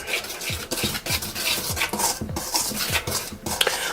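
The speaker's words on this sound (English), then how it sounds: "And all you're going to do is whisk this around" A whisk scrapes steadily around a bowl of salt, cinnamon and nutmeg for a vegan Jamaican Christmas fruit cake, with rhythmic repeated strokes close up and no talking.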